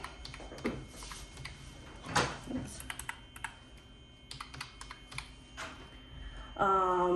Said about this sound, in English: Then you're going to type in your animal.